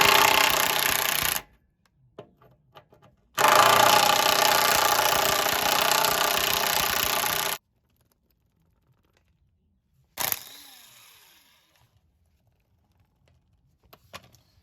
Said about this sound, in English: I'm gonna go ahead and loosen up these bolts that are holding the tail shaft of the transmission here to the cross member